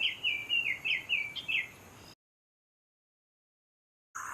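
An oriole sings a series of bright, fast chattering notes up close, then goes silent, with a short burst of sound returning at the end.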